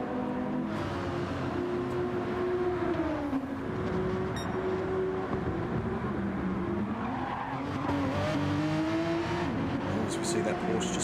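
A Porsche GT3 Cup race car in a sim-racing game at the Red Bull Ring, with a steady high-revving engine note that rises and falls through gear changes alongside brief tire squeal, running continuously under a commentator's voice.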